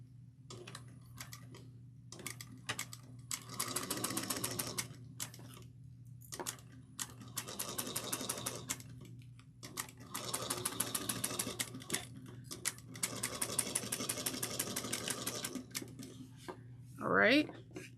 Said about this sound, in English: we're going to top stitch this at 1/8 of an inch